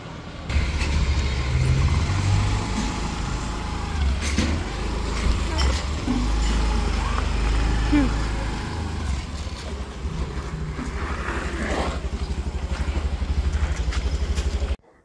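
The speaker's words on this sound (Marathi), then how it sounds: "आणि बघा आपली दीदी किती छान अशी मस्त गाडी चालवते" A vehicle driven along a road, engine drone and tire rumble rising and falling over the whole stretch with occasional thumps and rattles, while people talk close by inside.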